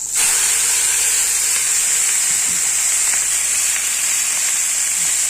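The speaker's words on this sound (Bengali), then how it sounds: "এখন ঢেঁকির শাকটা ভাজা করব।" Steady, loud sizzling hiss of dhenki greens frying in hot oil with black cumin, continuous and close throughout with no talking.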